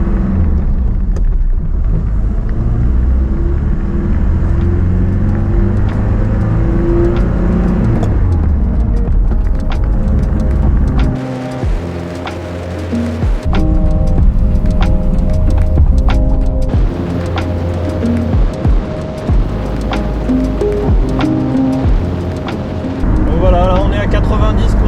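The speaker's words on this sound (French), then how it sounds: "on a quasiment autant de bruit d'air et d'aérodynamique que de bruit de moteur" Interior of a Mercedes-Benz W108 with a 240d diesel engine on the move: a steady low diesel drone with gear changes and shifts in pitch, blended with wind and road noise throughout.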